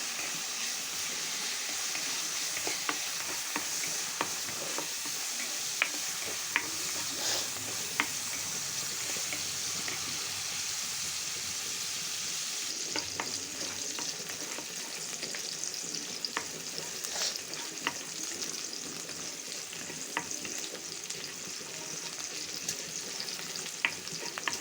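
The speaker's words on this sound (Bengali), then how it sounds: "পেঁয়াজটা বেরেস্তা করে নিচ্ছে।" Sliced onions frying brown in a pan sizzle and hiss steadily up close, with occasional stirring scrapes and pops and no voices.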